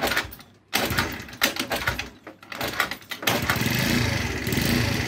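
A JM Motors 50cc four-stroke scooter from 2021 cranks with rapid, rattling bursts and pauses, then catches and settles into a loud, close, steady putter.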